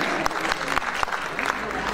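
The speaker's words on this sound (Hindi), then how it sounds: "एक बार तालियों के साथ अभिनंदन अभिवादन" Audience applause at a literary award ceremony, a close, steady clatter of many hands with a few louder claps standing out, as voices talk faintly underneath.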